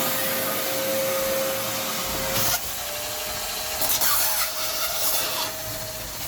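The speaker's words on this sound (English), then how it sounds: "So I'm using the Craftsman 9-gallon wet dry vac." A Craftsman 9-gallon wet/dry vac runs steadily, drawing sludge from the bottom of a soft-water salt tank with a constant whine. A rough, gurgling scraping shifts partway through as the nozzle moves over the muck.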